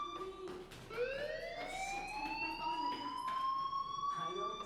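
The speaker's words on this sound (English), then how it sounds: "Hey, do you hear that fire alarm?" A rising electronic alarm tone in the video game Life is Strange wails upward and holds steady in pitch, moderately loud, with talking and other game sounds underneath.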